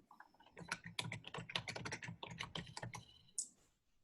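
Rapid, uneven clicking of keys on a computer keyboard, close and fairly loud, in a steady burst of typing that slows and stops near the end.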